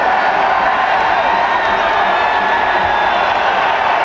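Arena crowd at a 1995 NIT quarterfinal college basketball game, Virginia Tech against New Mexico State, cheering after a basket: a steady, loud roar of many voices that holds for the whole stretch without a break.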